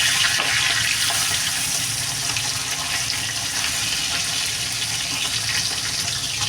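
Hilsa fish and potatoes frying in hot oil, a steady bright hiss and crackle that holds evenly throughout, close and fairly loud with no speech.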